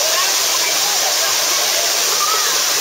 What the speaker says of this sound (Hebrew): זה מפל מספר 2 אגב.